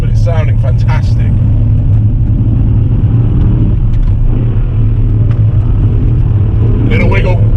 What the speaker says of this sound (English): This car still needs an exhaust system, but it's sounding fantastic.